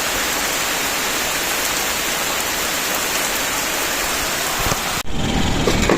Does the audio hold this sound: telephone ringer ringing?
no